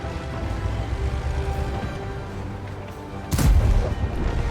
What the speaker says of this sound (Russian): Вот это был супер выстрел.